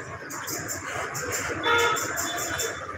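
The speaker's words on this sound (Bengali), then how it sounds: "তো ঈদের বাজার প্রচুর জ্যাম রাস্তাঘাটে।" Jammed street traffic during the Eid shopping rush, a busy road murmur of engines with repeated short car horn toots in a fast rhythm, and a louder, longer horn blast in the second half.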